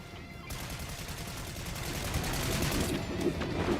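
Rapid bursts of video game gunfire while shooting at a Megazord, a dense continuous fusillade that stays loud throughout and builds slightly toward the end.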